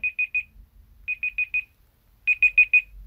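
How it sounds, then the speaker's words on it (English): A phone timer's bright electronic alarm beeps in three quick bursts of four tones each, separated by short pauses, loud and clear over a faint low rumble. "after the timer is up, there will be an alarm sound"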